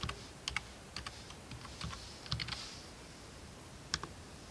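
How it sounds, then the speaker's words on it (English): Typing an email address on a computer keyboard, a sparse run of light clicking keystrokes in irregular bursts over faint room noise. "Up here you type in your email"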